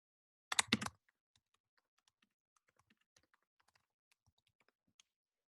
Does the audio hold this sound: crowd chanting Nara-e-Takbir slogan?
no